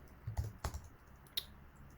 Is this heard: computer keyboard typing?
yes